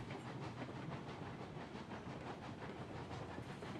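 A 2-4-0 steam locomotive in the Railroads Online game hauls a cordwood train uphill, a steady rumbling chug and rail clatter with hissing steam, close and continuous, with no talk.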